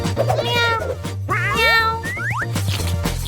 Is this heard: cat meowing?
yes